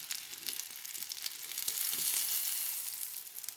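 Steady oil sizzle and crackle of liver fritters frying in a pan, a continuous close hiss with small pops, swelling slightly midway.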